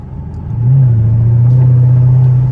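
Chevrolet Camaro SS V8 engine revving while driving, a deep steady rumble that rises sharply and holds loud and close, the pitch climbing and then settling into a sustained drone with no talk over it.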